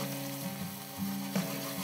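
White wine hits a hot pan of garbanzo beans and sizzles loudly and continuously, a dense close frying hiss with faint stirring clinks and a low hum underneath.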